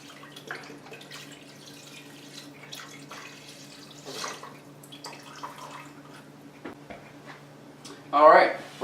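Stock is poured over vegetables in a pot for chicken noodle soup, a brief splashing pour near the end after a stretch of talking.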